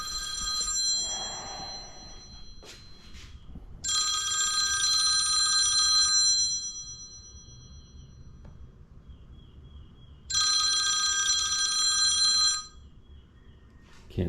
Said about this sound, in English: Can't take that phone call right now.